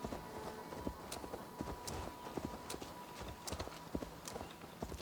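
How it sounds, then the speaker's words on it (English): A horse's hooves clip-clop at a walking pace in the Assassin's Creed Valhalla video game, a steady run of close, crisp hoofbeats over a low background bed. "My horse is walking faster than you're running."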